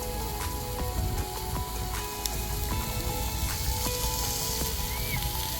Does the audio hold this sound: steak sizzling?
yes